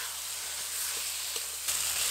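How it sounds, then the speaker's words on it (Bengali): Boiled taro leaves sizzle steadily in a pan with fried spices while being stirred, a continuous close hiss with soft scraping accents and no talking. "এবার ভালো করে মশলার সাথে নাড়াচাড়া করব।"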